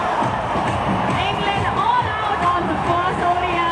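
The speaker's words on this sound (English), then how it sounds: "a big crowd here thoroughly enjoying this performance" A big crowd at a cricket stadium in Hyderabad during an India vs England one-day international, a dense continuous roar and babble of spectators heard under a commentator's voice.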